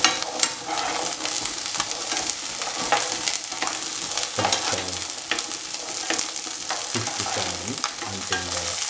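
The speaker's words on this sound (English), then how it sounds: "Until the onions turn a golden brown. Keep on sauteing." Shallots, or pearl onions, sauté in oil with salt, giving a busy sizzle with repeated scraping strokes of a spatula against the pan, loud and close, with no speech.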